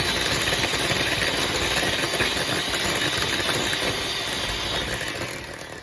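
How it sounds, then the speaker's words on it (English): An electric whisk beats cream toward soft peaks, a steady, loud motor whir with a high buzzing hum held constant, fading slightly at the end. "take my electric whisk and I'm going to whisk my cream until it's a nice soft peak"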